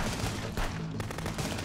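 Rapid gunfire bursts in the video game Contraband Police, a dense, loud, continuous volley of shots filling the moment with no talking.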